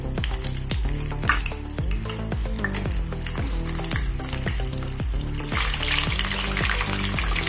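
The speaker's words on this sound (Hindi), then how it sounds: "लेकिन पहले हम इसमें मिर्ची तल लेंगे" Slit green chillies fry in hot oil for street-style vada pav, a loud continuous bubbling sizzle heard close up, with a rhythmic musical beat running underneath.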